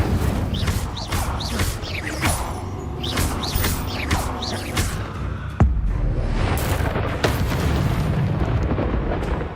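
A fire spell cast in the Hogwarts Legacy video game bursts into loud booming, crackling explosive blasts, a dense run of impacts over rumbling game sound with no speech.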